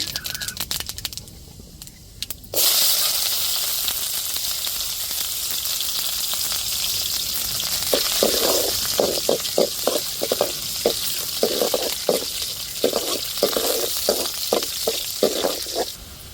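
Small onions drop into hot oil for chicken curry and sizzle steadily, loud and close, while a spoon scrapes and stirs the pan in repeated rhythmic strokes.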